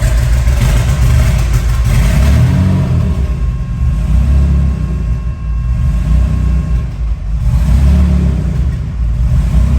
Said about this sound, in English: Turn on the key for the fuel pump. And let's start it.